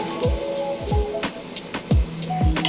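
Yogurt hits a pan over very low heat for a black chickpea curry, giving a soft, continuous crackling sizzle with scattered small pops and drips, close by and with no one speaking.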